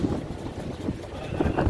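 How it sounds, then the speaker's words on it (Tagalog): Strong wind buffeting a small passenger boat off Isla Verde, Batangas, a steady low roaring rumble of gusts with water noise beneath, loud and close to the microphone throughout. "Masyadong malakas ang hangin."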